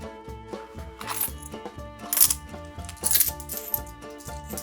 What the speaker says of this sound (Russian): Мелочь.